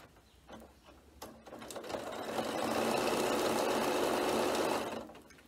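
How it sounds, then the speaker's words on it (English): A sewing machine stitches steadily across a sequin-covered pencil case, the motor whirring up from a slow start to a loud, even run for a few seconds, then stopping, with light clinks before it begins. "I'm just going to stitch all the way across on that line that I told you about."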